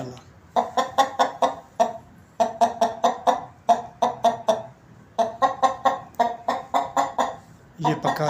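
A fighting rooster held in someone's hands gives close, rhythmic bursts of clucking calls in quick clusters, separated by brief pauses.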